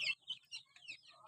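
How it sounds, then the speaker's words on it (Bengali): Chickens on a small hobby farm cluck in short, quick bursts, faint and close, with no talking over them. "আজকে অনেক দিন পরে আমি আমার শৌখিন খামারের মুরগিগুলো আপনাদের দেখাবো"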